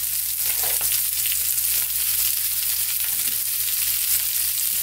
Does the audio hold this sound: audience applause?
no